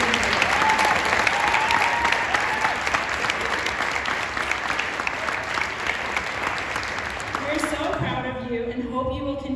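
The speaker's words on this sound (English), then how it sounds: "you all deserve one last round of applause for the courage it took to do it" A large audience at a 2024 club leaders' event claps in a long, dense, steady round of applause that stops abruptly near the end.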